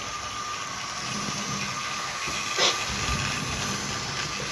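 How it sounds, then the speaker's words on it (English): Standard 4 steam locomotive on a model railway circling the layout, giving a steady low hiss and running rumble with a faint whine, one brief brighter burst midway, fairly quiet and continuous. "I like that standard 4. It's going around nicely,"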